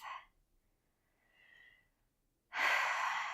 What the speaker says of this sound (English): Come to a deeper breath.